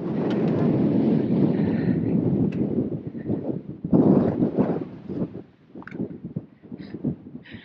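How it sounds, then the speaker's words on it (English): Strong mountain wind on a rocky hiking trail buffets the microphone in heavy rumbling gusts that ease toward the end, with a few faint sounds mixed in. "It's so windy."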